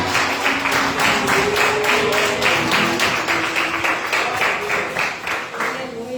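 Church congregation clapping in steady rhythmic unison during worship, a continuous even pulse of hand claps with voices and music mixed underneath.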